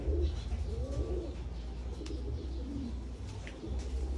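Japanese pigeons, a cock and hen, coo softly in a low, repeating rhythm over a steady background hum, with a few faint chirps and no voices.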